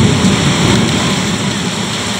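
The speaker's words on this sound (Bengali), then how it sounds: "বাজ পড়ছে। আর আজকে সারাটা দিন বৃষ্টি হয়েছে।" Steady heavy rain pours through a daylong storm, with a low rumbling thunder roll blended into the dense, continuous wash of falling water.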